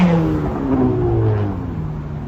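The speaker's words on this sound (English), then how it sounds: "You guys can hear the traffic going below us on either." Traffic on the roads below the Brooklyn Bridge in New York City at night makes a steady, loud rumble and whir, with engines droning without a break and no voices.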